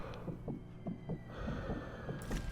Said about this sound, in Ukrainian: серцебиття підвищене.